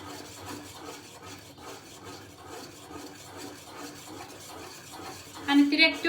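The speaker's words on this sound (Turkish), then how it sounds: "Şimdi bunu hem döküyor hem de karıştırıyor." Stirring with a whisk while pouring into boiling apricot marmalade in a pot, a steady scraping, rubbing rhythm that grows louder near the end.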